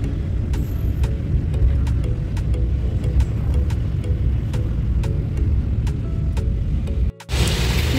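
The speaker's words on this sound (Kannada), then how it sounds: "ಆ್ಯಕ್ಚುಲಿ ಗಾಡಿ ಸೌಂಡ್ ಅಂತೂ ಭಾಳ ಐತಿ" Street traffic on a rainy day in Belagavi, outside a shopping store, a loud, continuous rumble of passing vehicles over wet road, with a brief dropout near the end.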